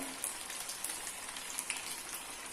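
Sabudana vada, sago fritters, sizzle steadily in hot oil, a soft continuous crackle with faint pops and no talking.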